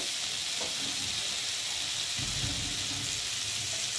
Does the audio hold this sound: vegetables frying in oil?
yes